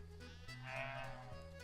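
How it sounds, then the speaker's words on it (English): A sheep in a field on a French homestead lets out one faint, drawn-out bleat over low background noise and rumble, with no talk. "Field full of sheep."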